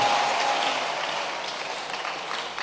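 Church congregation applauding and cheering for Jesus during a worship service, a dense wash of clapping that fades slightly over a few seconds with no voices on top.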